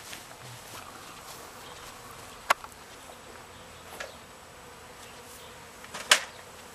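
Honeybees buzzing around a hive during a package installation, a faint, steady hum with occasional closer buzzes of single bees passing the microphone, no talk.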